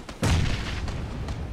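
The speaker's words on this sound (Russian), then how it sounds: "А вот тут отличная стрельба от Дака." A heavy tank gun shot in a video game booms out, followed by a rumbling decay and a few fainter distant shots.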